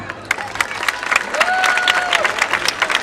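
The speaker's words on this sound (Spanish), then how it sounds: "Un fort aplaudiment per a Javier Alcaina" Applause from an audience at a Sagunto football club festival, a dense wash of clapping that builds and holds for about three seconds, with a whistle-like tone gliding through the middle.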